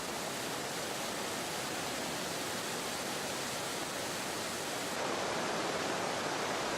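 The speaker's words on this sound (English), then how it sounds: "Emerald Pool is a small waterfall, 6 meters high." Small waterfall about 6 meters high at Emerald Pool, a swimming basin, giving a steady, dense rush of falling water that stays constant throughout and swells slightly louder near the end, with no voices.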